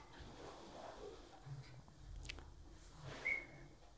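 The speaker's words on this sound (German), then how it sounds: "Und die Renate bestätigt das dann, dieses Verhalten, mit einem Pfiff" A zookeeper at Schönbrunn Zoo gives a single short, sharp whistle blast during panda training, standing out briefly near the end over quiet, muffled background rustling.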